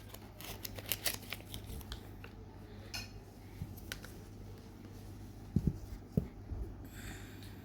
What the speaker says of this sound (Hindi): नीचे हम इसे कटर से क्या कर देंगे, काट लेंगे।